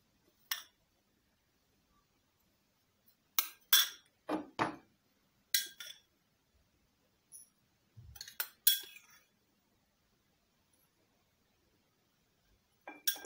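Freshly ground black cumin is poured into a glass jar in a home kitchen, giving sparse clinks and soft rattling taps in scattered short bursts with silence between, close and fairly faint.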